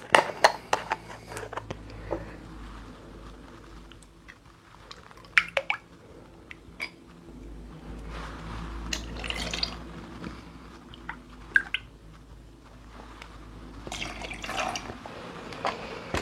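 Pineapple juice is poured into a cocktail, giving a soft close liquid trickle and splashing with scattered drips and clinks, moderate in level.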